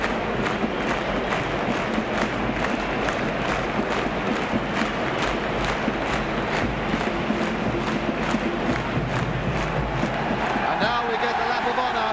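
Swindon Town supporters fill the stadium at the 1968–69 English League Cup final against Arsenal, a steady roar of crowd noise and scattered cheers beneath a commentator's voice.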